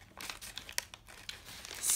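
Scissors snip and crinkle through a brown paper bag along its seam, with quiet, close, irregular cutting and rustling sounds and no talk.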